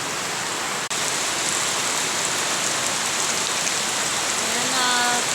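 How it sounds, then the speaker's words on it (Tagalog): Heavy rain pours under a dark sky, a dense, steady roar of close drops hitting surfaces that continues unbroken apart from a brief dip near the start. "Lakas ng ulan guys."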